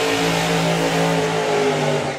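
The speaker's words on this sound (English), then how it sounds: "amazing burnouts as well" Drag racing car doing a burnout at a drag strip event, a loud, sustained engine roar holding steady at high revs with a gritty, continuous tire-spinning rasp throughout.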